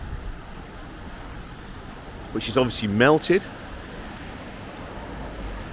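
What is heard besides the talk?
high river flowing under village bridge in Bibury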